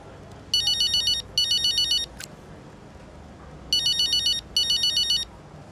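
A phone ringtone in the F1 25 racing game, two bursts of a bright electronic trill, a pause, then two more, loud over a low background hum with no talking.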